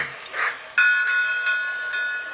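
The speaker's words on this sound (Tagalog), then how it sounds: "Tapos may tren na dumadaan." A toy train running past inside a lit model house display, giving a steady mechanical hum with bright ringing tones and a faint whistle-like pitch, close and continuous after a short softer start.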